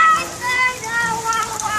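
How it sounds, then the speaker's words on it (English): Steady rain pours down outdoors in a rainstorm, a dense continuous hiss and patter close by, with children's voices talking faintly under it. "Is it fun out in the rain?"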